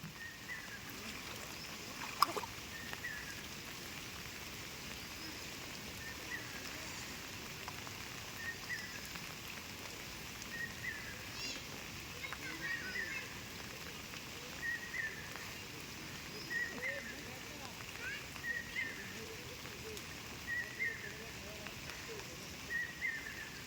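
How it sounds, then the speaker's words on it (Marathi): Steady rain falls all day on traditional Konkan farm fields, a continuous soft hiss with scattered louder drips and patters repeating throughout. "आज दिवसभर पाऊस आहे सकाळपासून पाऊस आहे"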